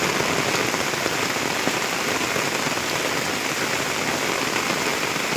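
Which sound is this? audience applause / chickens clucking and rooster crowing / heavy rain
heavy rain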